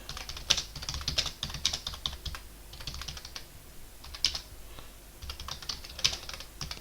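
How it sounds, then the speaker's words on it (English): Fingers type on a computer keyboard in quick, irregular bursts of close clicky keystrokes with short pauses between runs, no voices over them. "I apologize for my typing."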